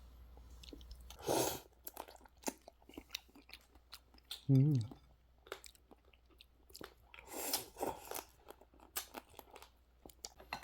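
Someone eating crab in a snowy countryside house, with soft crunchy chewing and biting in close bursts, one louder crackle midway, and brief murmurs between bites.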